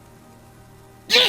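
A single sudden, loud, sharp sneeze bursts out close up after a stretch of quiet background hum.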